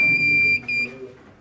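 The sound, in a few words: laser security system alarm triggered by breaking the beam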